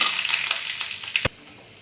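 Cumin seeds and bay leaves sizzle in hot oil for masoor dal, a bright steady fry with a few stirring scrapes. The sizzle drops away abruptly partway through, then only faint residual hiss remains.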